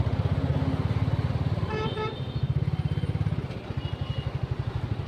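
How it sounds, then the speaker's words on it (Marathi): Heavy road traffic heard from a Bullet motorcycle ridden between Turbhe and Airoli: the bike's steady thumping engine runs throughout while car horns honk loudly twice nearby. "आणि आता आपल्याला ट्रॅफिक लागलेली थोडीशी"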